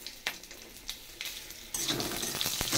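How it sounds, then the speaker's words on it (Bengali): Bay leaf, black pepper, cumin and two dried red chillies frying in hot oil in a pan for a fish curry, a steady close sizzle with scattered clinks and scrapes of stirring that grows louder midway, with no talking. "দিয়ে দিয়েছি এখানে তেজপাতা, গোলমরিচ, জিরে আর দুটো শুকনো লঙ্কা"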